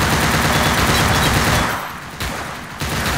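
Rapid, loud gunfire from the online shooter game Offensive Combat, a dense burst of shots that drops off briefly before firing resumes.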